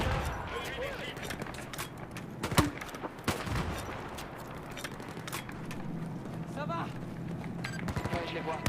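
Gunfire in the Battlefield 4 Baku campaign mission: scattered shots and short bursts crack over a busy battlefield bed of rumble and noise, with a couple of louder nearby reports and radio-style voices talking throughout.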